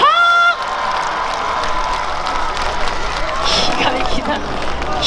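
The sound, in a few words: audience applause and cheering at a festival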